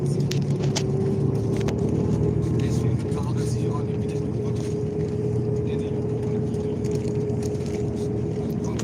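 A car drives along a forest road, with a steady engine drone and road rumble running throughout at a constant level. Faint scattered clicks and bumps sit on top, and no talk is heard.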